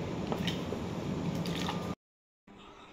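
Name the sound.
raw green mango pieces put into lime water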